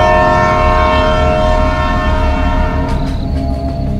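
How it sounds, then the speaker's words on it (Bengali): A passenger train sounds a long, loud, sustained horn blast with a rich layered tone, heard close over the rumble of the rail cars rolling along, with no talking. "নাকি আর্তনাদের শব্দ ডাকতে হর্ন বাজালো রহস্যময় ট্রেনটা।"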